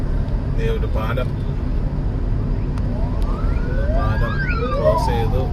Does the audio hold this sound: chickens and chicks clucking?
no